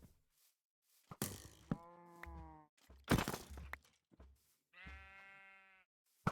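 A Minecraft cow lets out three distinct moos, each a short droning call separated by brief pauses, close and clear with small bumps of game noise in between.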